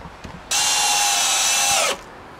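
A power drill drives a long screw into a home-made wooden power rack in one close, loud whirring burst lasting about a second and a half, with no talk.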